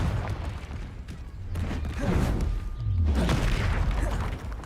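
Confringo fire spell explosions in the Hogwarts Legacy video game, loud booming bursts that swell and roll on over a couple of seconds, layered with a rumbling low tail and busy crackling mid-range noise.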